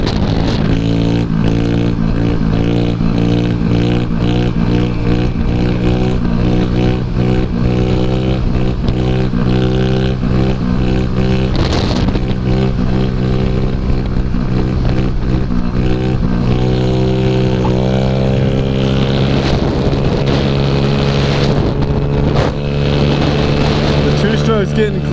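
A 120cc Stroker Elite scooter with a new Taida pipe out on a ride: a loud, close two-stroke engine drone holds steady with strong buzzing harmonics, then climbs in pitch as it revs near the end.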